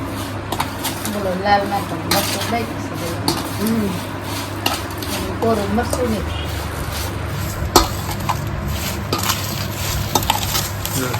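Gunda (glue berry) pickle being stirred and mixed by hand in a metal vessel, with soft scraping and clinking under steady background talk and a low constant hum.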